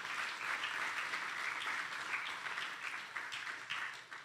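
An audience at a fraternity Honours Day convocation applauds with steady, dense clapping that holds at an even level throughout and sounds somewhat distant.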